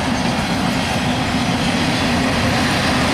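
A CSX mixed freight train that includes a Genset locomotive rolls past close by, producing a loud, continuous rumble with steady wheel noise throughout.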